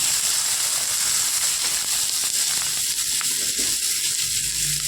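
Onions frying in a pan with fenugreek seeds in oil for a Bengali fish curry, a steady broadband sizzle holding throughout at moderate loudness, with faint stirring clinks near the end and no talk.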